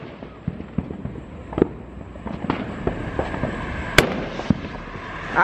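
Fourth of July fireworks grand finale pops and crackles in scattered bursts, some sharp bangs among a steady rumble, with voices faintly present underneath.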